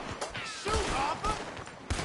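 Rapid bursts of gunfire in the video game Red Dead Redemption 2, with a cluster of sharp shots layered under tense voices and game sound, a few louder cracks standing out near the start and end.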